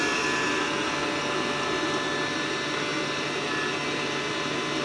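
A toy Dyson vacuum cleaner runs with a constant, even whine and hum, close and steady from start to finish with no talking.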